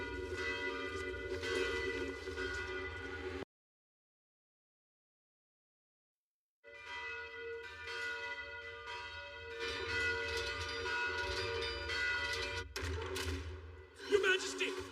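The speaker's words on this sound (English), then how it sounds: "I can hear the alarm bells ringing." Bells ringing as an alarm in an animated fantasy town, sustained overlapping tolls that cut off into brief silence before resuming, with a thump near the end.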